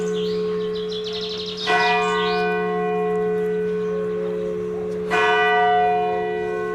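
Church bells ring out in Kruisland, a village in North Brabant, with two loud struck onsets about three seconds apart, each followed by a long, humming metallic ring that sustains throughout.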